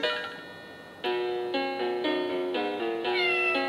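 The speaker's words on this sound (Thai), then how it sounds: "อันนี้ก็จะเป็นเสียงแมวขึ้นมาอย่างเงี้ยค่ะ" A toy cloth piano's electronic cat meow sounds over a bright synthesized tune, the melody stepping through repeated notes in a steady rhythm, close and clear.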